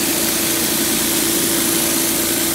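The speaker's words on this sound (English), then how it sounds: "This is the surface cleaner right here. 16 inch, producing 3500 PSI." A 16-inch surface cleaner on a 3500 PSI pressure washer runs over a concrete driveway with a loud, constant engine roar and a steady hissing spray, continuous and close, with no voices.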